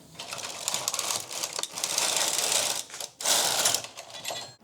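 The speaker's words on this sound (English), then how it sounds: "More knitting." Knitting a rainbow octopus sweater by hand, with busy clicking and rubbing of needles and yarn heard up close in steady bursts, broken by short pauses and with no talking.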